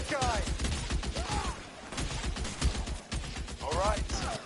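Gunfire in a video game firefight, rapid crackling bursts with clanking mechanisms and shouting voices mixed in, close and loud.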